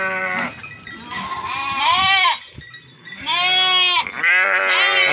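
Sheep bleating loudly and repeatedly at close range as a small flock is led into a pen during daily care on a farm, with overlapping calls and shuffling in between.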